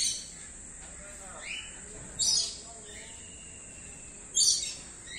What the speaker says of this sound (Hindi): मैना